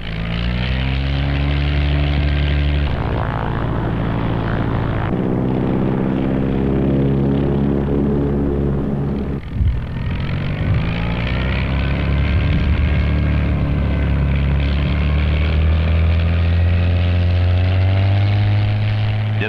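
A propeller-driven racing plane flying high-speed demonstration passes at the Reno air races, its engine droning loudly and continuously, the pitch sliding and shifting as it roars past with a brief dip midway.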